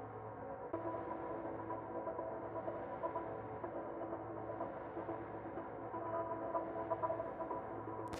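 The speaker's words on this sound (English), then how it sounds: "then the FX section with a lot of ambient sounds" Soft, continuous ambient effects for a melodic techno breakdown form a dense, washy bed of hum and shimmer, low in level and steady throughout with slight swells, no voices.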